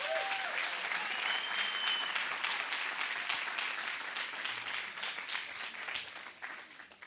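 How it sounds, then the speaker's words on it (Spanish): A church congregation applauds during a sermon, a broad, sustained burst of many hands clapping that stays strong for several seconds, then slowly thins and fades toward the end. "Dale un aplauso a Jesús"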